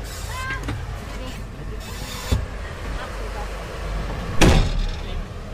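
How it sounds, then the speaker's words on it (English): An armoured vehicle's heavy door slams shut with a sharp, loud thud near the end, following a smaller knock earlier, over a steady low engine rumble inside the vehicle in Gaza. "The door slams shut on our armoured vehicle."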